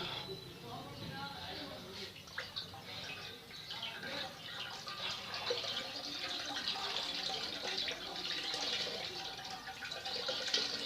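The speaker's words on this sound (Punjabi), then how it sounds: "ਇਹ ਜਿਹੜਾ ਪਾਣੀ ਮਾਸ਼ਾਅੱਲਾ ਨਿਕਲਿਆ ਜੜੀ ਬੂਟੀਆਂ ਦਾ।" Herbal decoction strained from a herb remedy, a steady pouring and trickling of liquid with faint splashes throughout, fairly quiet and close, with some low voices in the background.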